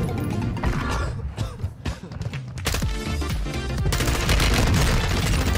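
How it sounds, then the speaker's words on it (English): Gunfire rattling through a Warzone 2 battle royale match, dense bursts and booming shots layered into continuous loud game action, with players talking over it. "Oh, I'm getting shot at."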